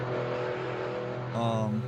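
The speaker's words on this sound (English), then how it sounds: "We are listening to the loud cars." Indy race cars run and rev ahead of a qualifying session in Kansas, a steady buzzing engine tone that jumps to a higher rev partway through, heard at moderate distance.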